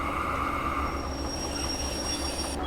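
Steel train wheels sliding and squealing on rain-wet rails in the Derail Valley train simulator, a steady high whine over a low rolling rumble that holds for the whole stretch, then cuts off abruptly near the end.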